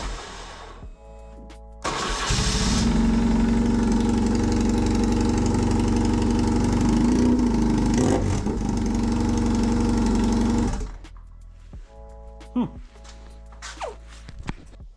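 A BMW R1150GS Adventure motorcycle boxer engine running with its exhaust canister removed starts up and drones loudly and steadily for about nine seconds before cutting off, with faint knocks and small noises before and after.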